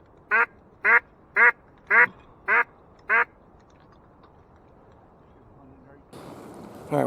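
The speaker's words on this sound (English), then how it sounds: "Here these two come. I think one's a drake." Six evenly spaced, loud duck quacks ring out close by during a windy Michigan duck hunt, followed by quiet and then a burst of wind or wingbeat noise near the end.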